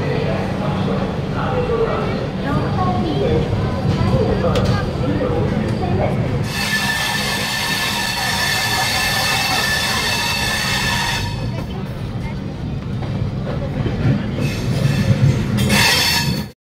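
Superfast express train (12863 SMVT Bengaluru) pulling out of Vijayawada Junction: a steady, loud rail rumble with a shrill wheel screech rising midway, then a brief squeal near the end, with voices faint beneath.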